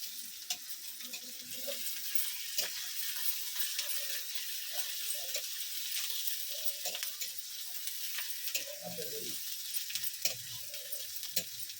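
Onions frying in a pan over steady heat, a soft continuous sizzle with small crackles and occasional light clinks of a utensil, fairly faint and close, with no talking.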